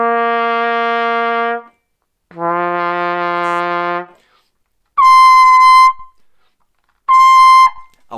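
Trumpet playing four sustained notes: two long lower tones, then two brighter, louder higher notes, each separated by short silences, clear and close with nothing else heard.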